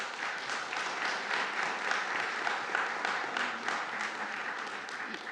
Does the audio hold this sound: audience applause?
yes